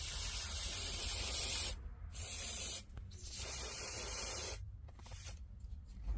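Spray paint hisses in broad, steady bursts onto handmade earrings cut from a plastic jerrycan, with two short pauses between the long sprays and no voices.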